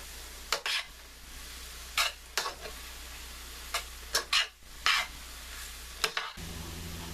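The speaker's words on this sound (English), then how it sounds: "Get it all mixed up in there." Vegetarian stroganoff stirred in a frying pan, with a utensil scraping and clinking against the pan in several short bursts over a faint, steady sizzle.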